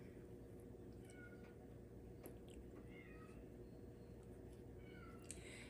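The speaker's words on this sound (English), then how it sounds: "You hear my poor cat." A house cat meows faintly at a closed room door, several thin, plaintive calls scattered over a steady low background hum, with no talk.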